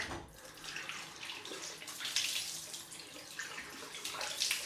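Tap water running in a sink while a 7/8 W&B straight razor is rinsed, a continuous close splashing hiss that swells and dips slightly as the blade moves under the stream.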